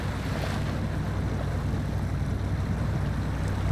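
A 1979 Chevy K30 truck in the SnowRunner video game pushes through deep water at speed in high gear, giving a steady, dense rush and churn of water with low rumble, continuous and without talk.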